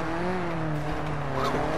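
Race car engine in the rally video game Dirt 4, a loud continuous high-revving drone with shifting pitch as the car accelerates and slides.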